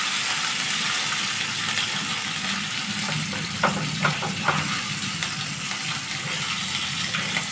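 Catfish pieces fry in hot oil with a dense, steady sizzle that runs throughout, close and fairly loud, broken by a few faint scraping clicks midway.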